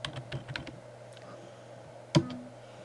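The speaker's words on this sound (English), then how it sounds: "so I'm going to type in Austin." Computer keyboard typing in a quiet room, a quick burst of soft key clicks followed by a pause and a single louder keystroke near the end.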